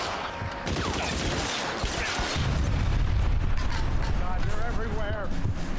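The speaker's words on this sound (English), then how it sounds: "Stop shooting him." Dense, continuous gunfire rattles in LA Noire, loud and unbroken with heavy low booms, while voices are heard shouting over the shooting.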